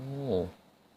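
A cat gives one short, close meow at night in a repair workshop where a Navara turbo is being worked on, a single tonal cry lasting about half a second before fading into quiet.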